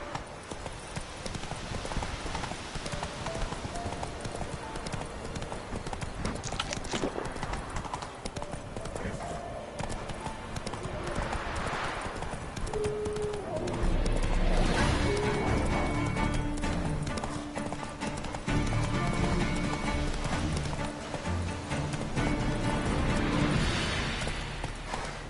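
Roach, the horse in The Witcher 3, gallops with rapid rhythmic hoofbeats under continuous game ambience and music, growing heavier and louder about midway.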